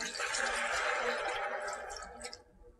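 Water poured into a soup pot over browned onions, carrots, parsnips and potatoes for potato soup, a steady close splashing pour lasting about two seconds before tapering off.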